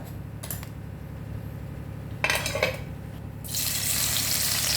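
Oil heating in a pan for sabudana usal, a steady hiss with a couple of brief louder spurts, then a bright, full sizzle that swells and holds near the end.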